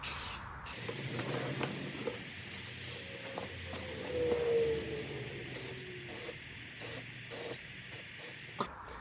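A spray can applies light coats of paint to a trailer wheel rim, a steady close hiss running nearly throughout, broken by several brief pauses between bursts.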